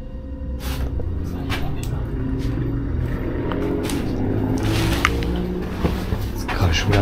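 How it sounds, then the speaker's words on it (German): A car drives over a bridge above a derelict house, heard indoors as a low muffled rumble that swells and fades beneath people talking and scattered knocks and rustling. "Ich hab gerade schon wieder ein Auto gehört"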